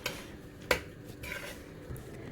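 Pasta with seasoning and herbs, made with mushrooms and vegetables, is mixed in a pan. A utensil scrapes and clinks against the metal, with one sharp knock and softer stirring scrapes, fairly quiet and close.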